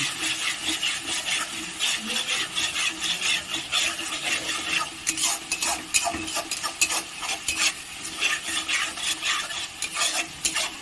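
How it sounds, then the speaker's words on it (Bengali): Spices with Kashmiri chilli powder fry in a pan for a bottle-gourd kofta curry while a spatula scrapes and stirs in quick, repeated strokes over a constant sizzle, close and fairly loud. "তার সাথে দিয়ে দিলাম কাশ্মীরি লঙ্কার গুঁড়ো। ভালো করে কষিয়ে নেব।"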